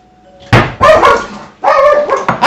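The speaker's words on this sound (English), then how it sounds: "Uh-oh, somebody's at the door." A front doorbell rings two loud ding-dong chimes about a second apart in a quiet kitchen, each tone ringing briefly before fading.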